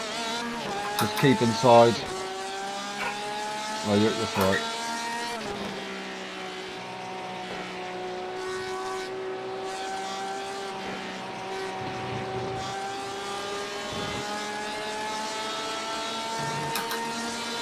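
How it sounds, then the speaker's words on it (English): Several race cars pass in a Le Mans endurance racing video game, their engine tones rising and falling in long sweeping whines with brief rasps, under a player talking throughout. "It's okay, there's a car coming. There's quite a few cars coming."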